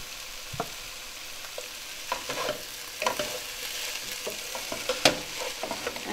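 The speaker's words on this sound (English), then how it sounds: "And now all I'm going to do is just stir the spices in really, really well." Ground spices, including coriander, stirred into cauliflower and potatoes frying in a pan, a soft continuous sizzle broken by irregular scraping strokes and spoon taps, close and clear with no talk.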